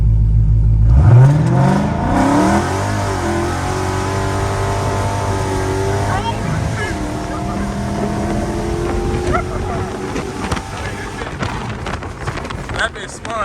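A cammed Chrysler 300C races a second-generation Dodge Charger with its tires spinning. A loud, close engine roar rises steadily in pitch as it accelerates, with wind buffeting the microphone throughout.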